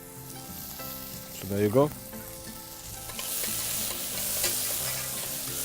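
Onions and fresh curry leaves fry in a pan while being stirred, giving a steady soft sizzle with scraping stir sounds and a brief voice over it.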